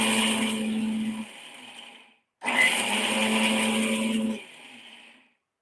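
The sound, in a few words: mixer grinder grinding ingredients for fasting medu vada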